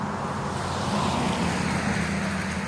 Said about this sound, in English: Let me let this vehicle go by